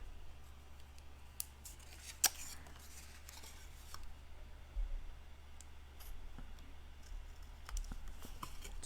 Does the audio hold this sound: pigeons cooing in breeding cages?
no